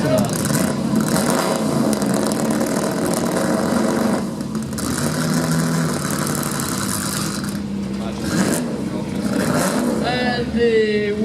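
A 1953 Ferrari 250 Mille Miglia Vignali racing car runs close by at a concours on palace grounds, its engine note steady and loud with rises in revs and a crowd murmuring around it.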